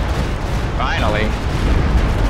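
An explosion from a Stuka dive bomber strike landing on a mortar in a World War II strategy video game: a steady, dense rumbling blast wash across the whole clip, with a brief whistling, warbling tone in the middle.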